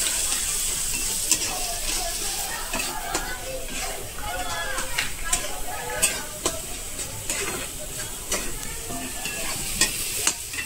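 Spice mixture of turmeric, Kashmiri chilli powder and coriander powder for prawn masala being stirred in a hot pan, a steady sizzle with repeated scraping strokes of a spoon, close and fairly loud.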